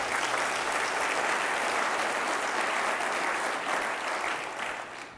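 A conference audience at the Mackinac Policy Conference breaks into sustained applause, a dense, even roar of many hands clapping that holds steady and then begins to taper off at the end.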